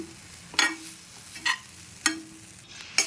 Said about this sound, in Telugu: ఈ వేడివేడి నీళ్ళల్లో ఈ రవ్వ అంతా ఉడకాలండి. ఉండలు చుట్టుకోకుండా కలుపుకోవాలి.